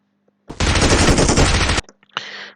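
Automatic weapon fire in the mobile battle-royale game PUBG Mobile: a loud, rapid burst of shots lasting over a second, then a brief pause and a shorter second burst.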